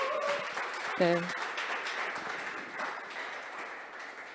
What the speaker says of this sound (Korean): 박수 한 번만 보내주시죠